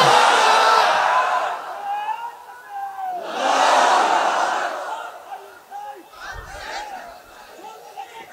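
A large crowd at an outdoor Islamic religious gathering in Krishnapur, Jessore roars a takbir chant of Allahu Akbar in response, two loud swelling waves of massed shouting followed by scattered fainter voices.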